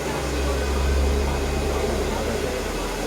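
A handheld hair blow dryer runs in a beauty salon in Davao City, giving a loud, steady airy whir with a low hum throughout, while people talk nearby.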